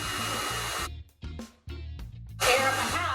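Blow dryer roaring with a steady whine of airflow, cutting out briefly and starting again, then growing louder and harsher near the end, close to the listener.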